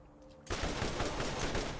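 Rapid automatic turret gunfire in the video game Borderlands bursts in abruptly after a quiet start, then rattles on as a dense, loud, continuous barrage.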